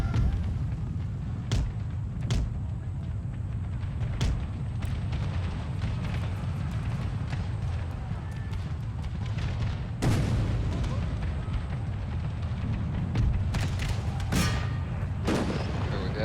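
Artillery and musket fire in the American Civil War mod of Empire: Total War, a dense, continuous barrage of booms and cracks with sharper volleys standing out near the middle and end, loud throughout.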